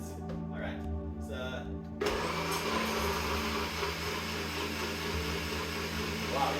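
A kitchen blender starts up about two seconds in, mixing a smoothie with a loud, steady whirring roar that continues to the end after brief quiet talk.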